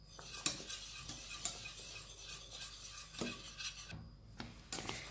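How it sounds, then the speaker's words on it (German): Milk cream being stirred in a pot as it heats on the stove, a spoon scraping and clinking against the pot in quiet, irregular strokes with soft sizzling underneath. "Bitte nicht weggehen, immer wieder rühren, damit sich nichts am Boden absetzt"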